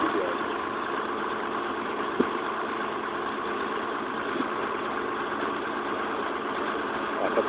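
A truck engine runs at a steady idle-like rumble while the truck is being towed away, a continuous mid-low drone with a few faint clicks and knocks and no talk.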